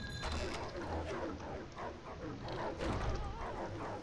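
A dog in the Lego Harry Potter video game yips and whimpers in a run of short, repeated bursts, moderately near, over a layer of game background sound.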